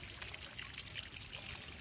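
Water trickles and pours quietly and steadily from a traditional village bamboo tap in rural Nepal, a soft continuous splashing with no voices over it.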